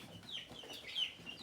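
Young chickens in a straw-lined bin clucking and peeping softly, a few faint chirpy calls close by with no one speaking.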